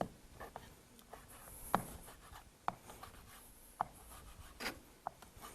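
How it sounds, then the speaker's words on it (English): Kitchen scissors snip through raw bacon over a cooking pot, a handful of crisp, close cuts spaced unevenly, with soft rubbing between them and no talking. "Just take your scissors and cut it right over the pot."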